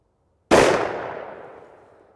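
One sharp, loud 10mm pistol shot from a Smith & Wesson M&P M2.0 firing Buffalo Bore ammunition cracks outdoors, its boom decaying into a long rolling echo, with no voices.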